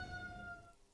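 A police, ambulance or fire siren wails in the street of the video game Disco Elysium, a steady two-tone whine over rain-like hiss that holds then fades away as the vehicle passes.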